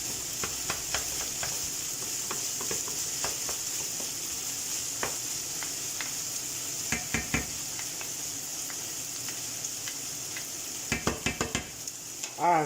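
Minced meat for simple spaghetti sizzles steadily in a pan, with repeated scraping stirs and a few sharp clinks of utensil against metal, loudest near the end, and no talk.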